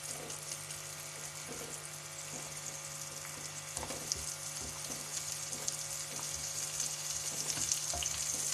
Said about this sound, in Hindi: अब हम उसको तुड़का लगाने के लिए लहसुन को फ्राई करेंगे।